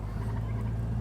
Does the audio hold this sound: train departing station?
no